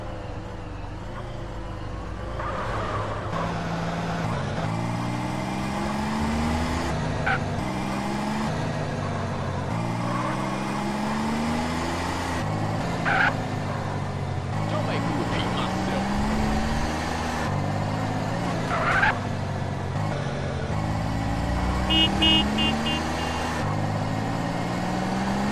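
Car driving in the GTA San Andreas video game: a steady engine drone with repeated rising and falling pitch sweeps as the gears shift, joined by brief beeps and clicks, the engine running continuously throughout.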